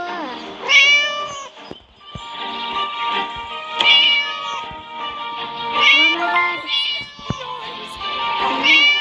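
A cat in the Scary Teacher video game meows over and over, loud and close. Whining cries come in quick succession with only brief pauses between them.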